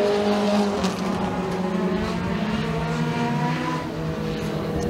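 Race cars at Genesee Speedway, a dirt track, roar by at racing speed in a steady, loud engine drone with overlapping revving tones that rise and shift as several cars run together.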